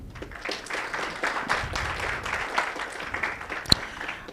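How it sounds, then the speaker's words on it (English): An audience at an AI town hall hosted by Aga Khan University gives a sustained round of applause, dense clapping from many hands at moderate distance, with one sharp louder clap near the end. "Another round of applause for our hosts, Aga Khan University"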